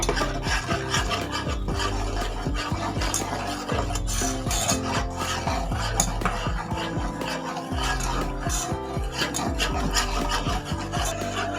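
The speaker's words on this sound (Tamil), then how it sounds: "நல்லா கைவிடாமல் நல்லா மிக்ஸ் பண்ணிக்கலாம்" Cake batter is mixed by hand for a cream-free dream cake, with a continuous close scraping and rubbing of the spoon against the bowl, steady and unbroken, with no voices.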